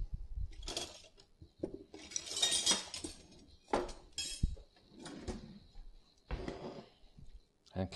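A metal spoon scrapes and clinks against a bowl while scooping tomato bruschetta filling, irregular close clatters and taps spread over several seconds with no speech.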